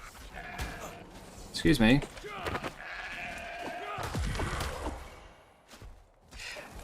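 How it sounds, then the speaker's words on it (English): A sheep bleats in the video game Monarky Bloodtide, one clear wavering bleat amid game sounds while a person talks throughout. "Oh, another sheep!"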